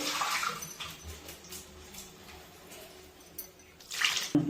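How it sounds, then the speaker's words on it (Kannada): Water is poured into a pan of bitter gourd gojju, giving faint, intermittent splashing and dripping bursts that grow briefly louder near the end, with no talking. "ಇದಕ್ಕೆ ನಮ್ಗೆ ಎಷ್ಟು ನೀರು ಬೇಕೋ ಅಷ್ಟು ನೀರು ಹಾಕೊಳ್ಳೋಣ"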